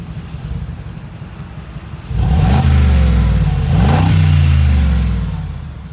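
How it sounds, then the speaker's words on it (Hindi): A Mercedes-AMG G63 with its twin-turbo V8 and 577 bhp revs hard up close, rising in two loud, sustained surges of deep engine roar after a quieter idle, with no talk over it. "V8 बाई टर्बो, और ये जो आवाज़ है"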